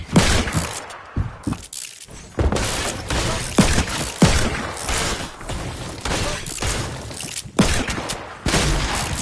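Loud gunfire in Fortnite, a string of sharp shots and bursts with brief gaps between, punchy and close, mixed with clattering mechanical and cracking game effects.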